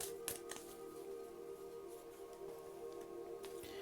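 Tarot cards are shuffled in soft, quiet riffling bursts over a faint steady background hum, with a few sharper card snaps standing out.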